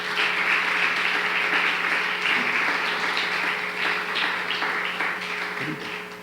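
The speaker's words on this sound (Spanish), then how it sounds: "Denle un fuerte aplauso al Señor." A congregation at a Tuesday prayer service gives a loud round of applause to the Lord: dense, sustained clapping from many hands over a steady hum, continuous throughout and tapering slightly at the end.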